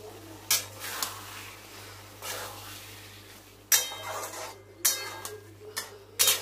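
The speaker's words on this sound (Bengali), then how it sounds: "তো মশলাতে তেল ছেড়ে দিয়েছি, আর এবার সেদ্ধ করা মটরগুলো দিয়ে ভালো করে একটু কষে নেব" Boiled peas stir-fried in spiced oil in a home kitchen pan, with a metal spoon scraping and clanking against the pan in sporadic bursts over a low steady hum.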